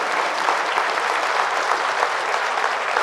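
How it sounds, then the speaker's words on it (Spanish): A church congregation claps together in loud, sustained applause that fills the room evenly from start to finish. "Fuertes aplausos al Rey de Reyes y al Señor de Señores."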